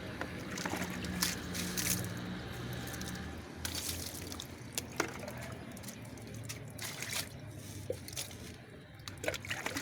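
Water spraying and splashing onto a Haier DC inverter split air conditioner unit during cleaning, a steady broadband hiss with scattered drips and trickles running throughout.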